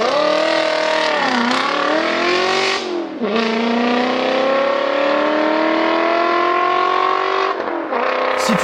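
A Volkswagen Passat W8 engine and exhaust drone loudly and continuously as the car accelerates, the pitch climbing steadily with a few brief dips at gear changes.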